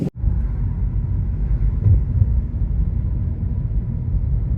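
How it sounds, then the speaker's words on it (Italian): Steady low wind on the coast of Gozo, Malta, rumbles and buffets against the microphone, a constant roar with brief gusts and no voices. "Da questa parte dell'isola si sente che è più ventoso."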